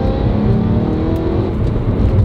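A BMW E92 M3 engine revs hard under acceleration from inside the car, a loud, steady mechanical drone with rising harmonic tones and no talking over it.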